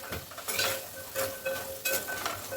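Soya chunks (meal maker) and onions frying in oil for meal maker pulao, a steady sizzle broken by stirring strokes and light pan scrapes, fairly close.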